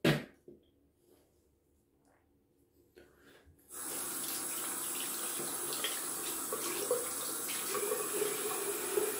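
Water runs steadily from a tap to rinse shaving soap off skin, starting after a few faint bumps and quiet handling sounds and continuing as a close, even splashing stream.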